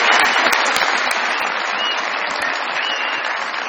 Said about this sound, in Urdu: بہت ساری تالیاں ان کی سچائی